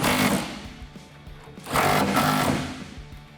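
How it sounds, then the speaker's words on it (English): Power tool driving the tonneau cover bracket bolts on a 2019 RAM 1500 with a 13mm socket, two sustained buzzing bursts of whirring, close and loud, without talk. "Grab your 13 socket and tighten them down"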